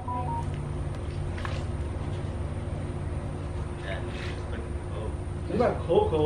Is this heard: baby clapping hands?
no